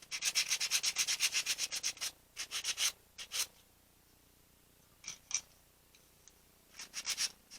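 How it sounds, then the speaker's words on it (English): Sandpaper rubbed back and forth over a small wooden piece for a Christmas DIY craft, a quick run of rhythmic scratchy strokes, then a few short isolated rubs with quiet gaps, close and fairly soft. "I'm going to sand that down just in case I do use it"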